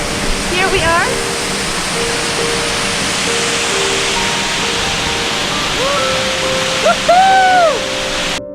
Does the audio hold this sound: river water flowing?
yes